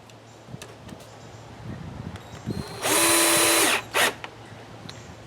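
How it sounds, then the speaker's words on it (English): A power drill whirs briefly at close range, pre-drilling holes in scrap wood, one longer burst followed by a short second pulse, amid quiet handling noises. "I'm going to pre-drill my holes for these little brackets"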